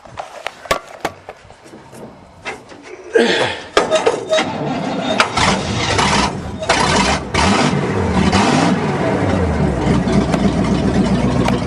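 An old farm loader, idle since 2001, cranks with sharp starter clicks before catching and roaring into loud, uneven revving as the throttle is pushed, running on continuously with a few spoken words at the start.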